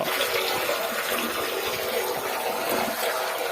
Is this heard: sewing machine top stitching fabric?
no